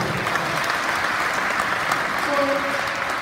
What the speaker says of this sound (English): let's give Kim a round of applause